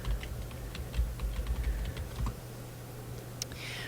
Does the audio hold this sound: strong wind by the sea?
no